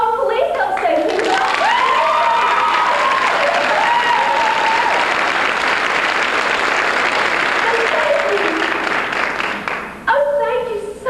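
A pageant audience claps loudly and continuously at a spring 1991 university pageant, sustained dense applause, while a voice sings or speaks with a melody over much of it before the clapping continues alone at the end.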